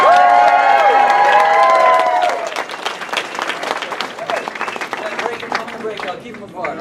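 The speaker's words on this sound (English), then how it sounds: "A little more applause." An audience applauds and cheers at a fan tribute event for William Zabka, loud at first over a sustained tonal sound, then easing into steadier clapping with scattered voices in the crowd.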